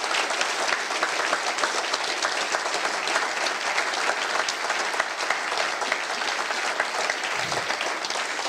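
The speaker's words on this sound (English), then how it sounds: "can you please give a round of applause to the team around here?" Dense, sustained applause from a conference audience thanking the event team at a talk featuring John Perkins, loud and even throughout with no voices over it.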